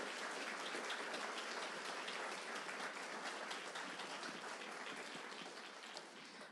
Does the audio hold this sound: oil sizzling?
no